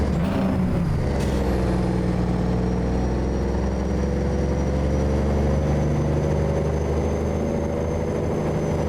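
A heavy truck engine pulls a logging load in American Truck Simulator, running from a Bellingham logging site toward Aberdeen. A deep, loud, steady drone rumbles throughout, with a short hiss burst near the start, and no talk.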